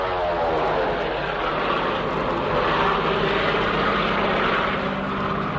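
Propeller aircraft diving and circling low over bamboo in a radio drama, a loud continuous engine drone with a steady roar and rising-falling pitch that stays up close for the whole stretch, no talking.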